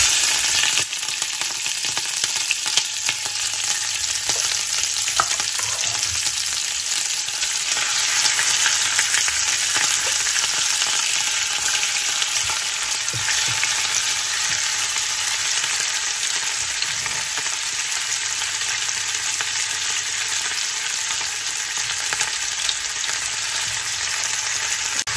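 Chicken pieces fry in hot fat or ghee in a pot, giving a loud, dense, unbroken sizzle that holds steady for the whole stretch with no voices.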